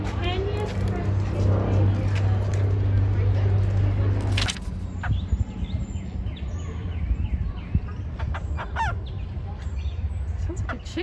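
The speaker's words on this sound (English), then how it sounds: "Sounds like a chicken." Loud, rough honking bird calls ring out in an aviary at Zoo Atlanta for several seconds, then stop, leaving scattered calls, background chatter and people talking nearby.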